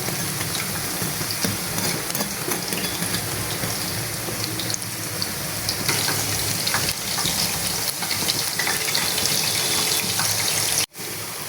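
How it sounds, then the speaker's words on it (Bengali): Lentil fritters (dal bora) fry in hot oil with a dense, steady, fairly loud sizzle that continues unbroken, cut by one sharp break near the end. "ডালের বড়াগুলোকে আমি ঠিক আমরা এভাবেই ভাজি।"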